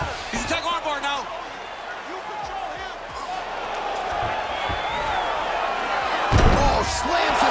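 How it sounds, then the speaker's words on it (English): In the UFC 4 video game, Khabib Nurmagomedov and Khamzat Chimaev grapple, and one fighter is slammed to the canvas with a heavy thud while an arena crowd roars throughout and a commentator talks over the action. "slams him to the canvas with authority"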